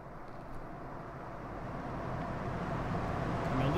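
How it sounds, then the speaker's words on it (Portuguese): Army trucks approaching, a low rumbling engine drone that grows gradually louder as they near, with no talk over it. "Caminhões se aproximando."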